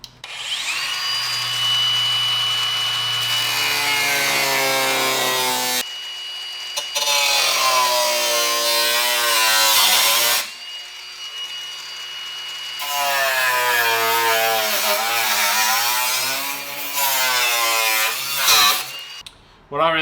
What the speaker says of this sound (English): What I really like to do is cut out a piece a lot bigger than the rust